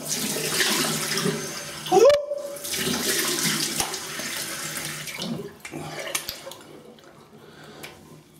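Running cold tap water splashes steadily over a Global Shave Storm razor being rinsed, with a brief squeak and clatter partway through, then the flow softens and trickles.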